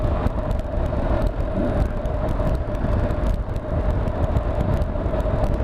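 Road traffic rolls past on a Sunday outing, a continuous dense rumble of engines and tyres that stays steady and fairly loud from start to finish.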